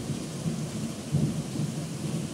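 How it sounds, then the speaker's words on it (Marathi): A night thunderstorm with heavy rain pouring down in a green rural setting, forming a steady loud roar, with a low rumble of thunder swelling briefly near the middle. "विजा कडकडतात. पाऊस असा जोरात चालला आहे."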